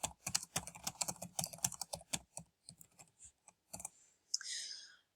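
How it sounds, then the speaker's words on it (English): Close, quiet typing on a computer keyboard, with quick bursts of key clicks that slow to a few scattered presses, followed by a soft rustle. "I'm going to type in,"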